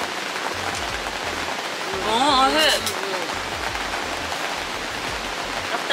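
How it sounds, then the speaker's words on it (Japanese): Heavy rain drums steadily on a campsite shelter during a family meal, a constant hiss running throughout, with brief nearby speech partway through. "雨が強い。"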